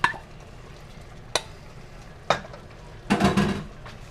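Peppers and sauce are stirred into steak frying in a pan, giving a soft sizzle under a few sharp scrapes and clinks of a utensil, then a longer, busier burst of stirring at the end.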